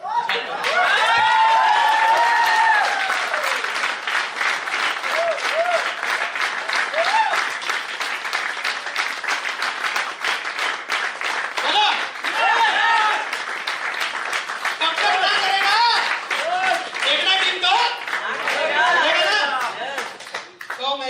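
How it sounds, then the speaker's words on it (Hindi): Sustained audience clapping at a business leaders' meeting, dense and continuous for about twenty seconds, with cheering voices, chatter and laughter rising through it. "जब तक हाँ ना करे ना, ताली बजाते रहो"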